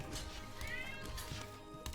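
A cat gives a single short meow, fairly faint, over low background noise.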